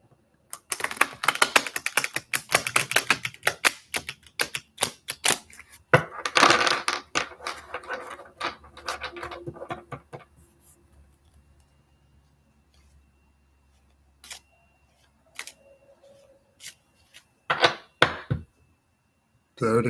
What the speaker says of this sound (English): That's how I know when to stop shuffling